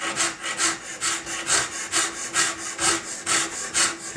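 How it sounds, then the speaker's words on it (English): A coarse metal file shapes the edges of a wooden patchbox lid on a gunsmith's bench, rasping in steady back-and-forth strokes, about two per second, close and clear with no talk. "I'm just going to use a coarse metal file"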